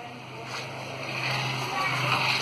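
A Honda CBR 600F motorcycle with a straight one-and-a-half-inch exhaust pipe runs steadily, its engine note a loud, continuous rasping drone that builds slightly over a couple of seconds.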